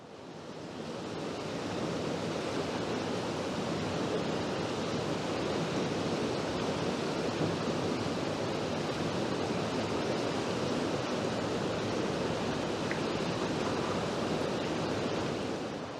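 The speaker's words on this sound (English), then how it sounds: "the beautiful Lochsa River" The Lochsa River rushes past in a steady, broadband roar of flowing water, close and loud, unchanging from start to finish with no voices.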